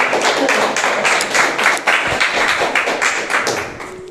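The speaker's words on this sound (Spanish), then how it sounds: "Vamos a darle un aplauso a Dios." Church congregation applauding, a loud, close, continuous patter of many hands with a few heavier claps and thumps mixed in, holding steady for several seconds before easing slightly.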